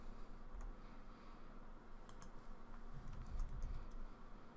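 Keys click on a computer keyboard as a spreadsheet formula is typed, a faint, scattered run of light taps over a steady background hum.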